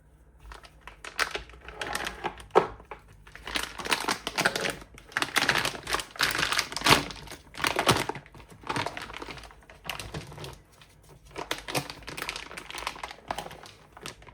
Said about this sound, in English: So we'll crack them open, see what they look like under the packaging.